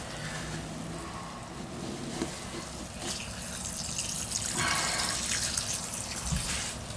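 Muddy water trickles and splashes steadily as it drains out of clay held in a bucket, a close, continuous watery wash with small drips and gurgles and no talk.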